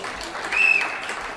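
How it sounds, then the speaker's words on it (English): Audience applause at a university graduation ceremony, a steady wash of clapping from a crowd that swells briefly in the middle, with no talk over it. "Let's give him a loud applause."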